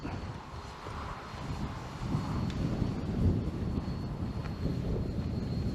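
A small engine drones steadily at a distance with a buzzing propeller tone from a PA Katana 52 RC airplane flying straight, wind rumbling across the microphone throughout.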